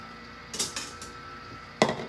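A spoon scrapes and knocks against a Pampered Chef Quick Cooker while rice toasts inside: a few light clacks near the start, then one sharper, louder knock toward the end, with a low steady hiss beneath.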